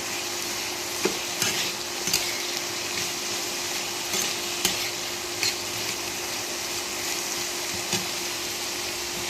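Young bottle gourd fries with cumin, turmeric and green chillies in a pan, a steady sizzle punctuated by periodic scraping stirs and soft utensil knocks, close and without talk.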